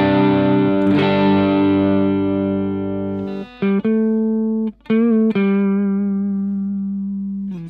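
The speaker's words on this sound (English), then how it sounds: "On the gain channel, with the gain around 3, it sounds like this." Electric guitar played through a Vox Amplug AC30 headphone amp on its high-gain channel with gain at about 3, ringing out a sustained distorted chord that slowly decays, then a few short chord stabs, close and loud with no voices.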